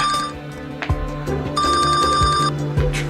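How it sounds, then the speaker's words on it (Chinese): A telephone ringing in an office, sounding loud, close, bright, repeated trills over a low room hum and dramatic background music. "我接一个电话。"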